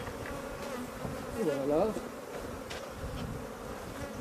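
Honeybees swarm and buzz around an opened hive during a summer honey harvest, a steady close drone under a short spoken phrase.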